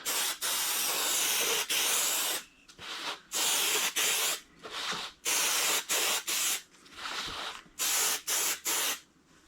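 Repeated short bursts of spray adhesive hissing close by onto a motorcycle seat pan edge, about a dozen blasts of varying length separated by brief pauses.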